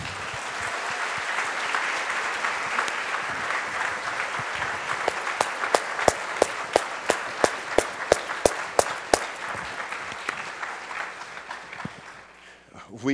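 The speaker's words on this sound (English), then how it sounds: "Please give a round of applause to our panel." Conference attendees at a school restorative-justice event applaud their panel in a broad, steady round of clapping, with a few sharp, distinct claps standing out midway before the applause fades away at the end.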